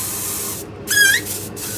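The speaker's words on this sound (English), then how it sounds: "you spray a generous coat on it" Short bursts of hissing spray from a spray gun laying a lacquer coat on a golf ball, broadband and close, with a brief whistling tone in the middle and short pauses between bursts.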